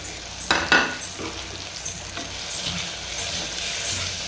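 Spice powders stirred into a sizzling tempering of curry leaves and coriander in a clay pot, a couple of sharp scrapes at the start, then a soft continuous frying hiss with light stirring.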